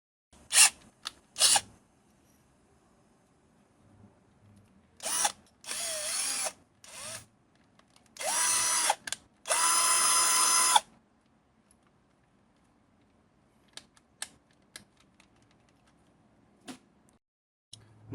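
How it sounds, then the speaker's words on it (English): Power drill boring two holes in a plastic electric fan part, heard as several separate loud whirring bursts of a second or two each, the longest near the end, with quiet gaps and small clicks around them. "Now here I have drilled 2 holes here"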